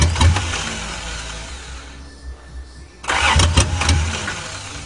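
An old Toyota Cressida running on bad gas cranks and catches, its engine churning roughly, dipping and sputtering in the middle, then surging back to a loud, uneven rev near the end.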